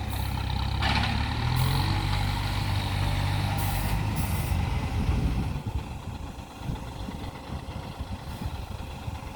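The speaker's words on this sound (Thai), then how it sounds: "เดี๋ยวเอารถไถ รถคีบมาดึงซอยครับเพื่อนๆนี่ กำลังมาครับ" A heavy truck and farm tractor rumble close by with a loud low engine drone, hissing air-brake bursts and clanks, then the engine noise eases off to a rougher idle.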